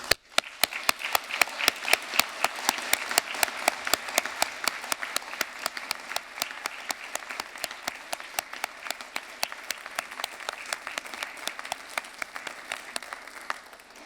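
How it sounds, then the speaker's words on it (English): A graduation ceremony audience at Aberdeen University applauds in a fast, steady run of clear, evenly spaced claps that lasts throughout and fades slightly toward the end. "this we would like to loudly and wholeheartedly applaud you all"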